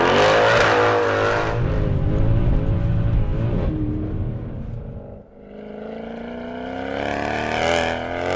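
A 513 bhp third-generation Mercedes C63 AMG with traction control off revs hard through the gears, loud and close, with rising engine pitch, a brief dip at a shift, then climbing again.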